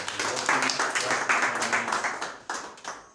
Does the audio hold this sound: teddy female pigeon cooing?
no